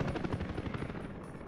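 A hospital helicopter in the city-building game Workers and Resources thrums with a steady rotor chop, moderately loud and uninterrupted for a brief moment, with no speech.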